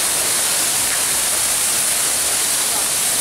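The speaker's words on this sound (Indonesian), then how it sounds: "Air terjun namanya air terjun Murian." The Murian waterfall at Lakedang on Gunung Maras roars as a loud, steady wash of broadband noise with no breaks, close and constant.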